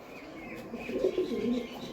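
Pigeon cooing close by at a livestock market, a soft low rolling coo lasting about a second over a faint busy background.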